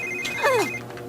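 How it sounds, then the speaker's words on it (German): A telephone rings in The Sims 3, a brief electronic warble that bends downward, heard once and fairly clear over a steady game background hum. "Telefon."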